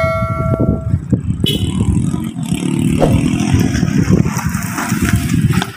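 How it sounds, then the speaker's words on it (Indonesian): Motorcycles stream past on a busy street near the Tugu Purwagung landmark, a loud, continuous close traffic rumble with engines revving and swelling throughout. "kalau jam segini itu banyak motor lewat"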